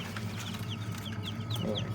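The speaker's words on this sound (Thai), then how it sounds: "อุ้ยลูกไก่ออกใหม่นะครับ" Newly hatched chicks, including Australorp and Leghorn, peep inside a farm brooder cabinet, with repeated high, quick chirps scattered over a steady low hum and no talking.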